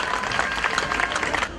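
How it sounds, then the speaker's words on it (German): Applause from the crowd at the opening of the Wachau Volksfest, a dense, steady clatter of many hands close by that carries on for the whole short stretch and eases off only at the very end. "Applaus bitte einmal, meine Damen und Herren"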